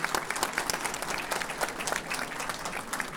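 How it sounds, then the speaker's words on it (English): Audience applauding at a London exhibition on Kashmir, a steady dense round of clapping that carries on evenly throughout without any talk. "If you endorse this proposal, then applaud."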